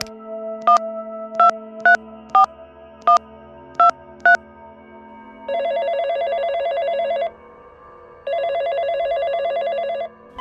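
A telephone call to the police: a string of seven short electronic rings followed by two longer sustained ringing bursts, clear and close with no talk.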